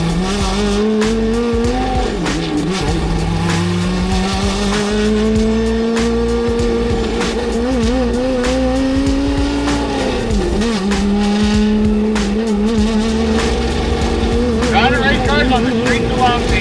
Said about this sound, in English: that thing sounds like a full-on race car